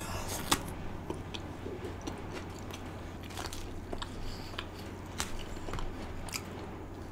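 Someone chewing a bite of food, paneer dishes such as butter masala, kadhai paneer or a tikka roll, with soft close crunches and bites spread through a quiet stretch and a few sharper clicks.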